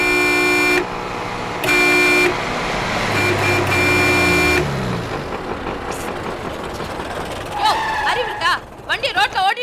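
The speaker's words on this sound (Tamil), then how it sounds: "வண்டியை ரோட்ல ஓட்டிட்டு போயிருக்கும் போது ஹார்ன் அடிச்சா என்ன அர்த்தம்?" A car horn blares in several long, loud blasts, then traffic rumble and engine noise follow, with people talking near the end.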